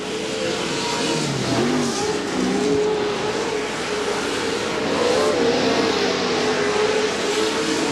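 Off-road race trucks compete at a CORR race at Chula Vista in 2008. Their engines rev and roar continuously, with rising and falling pitch as trucks accelerate and pass at moderate distance.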